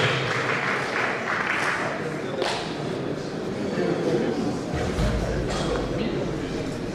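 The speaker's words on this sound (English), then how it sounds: "Another round of applause with you, please." An audience at a Nigerian Bar Association law week session gives a sustained round of applause, a steady dense clatter of many hands with a low rumble beneath, carrying on for the full stretch.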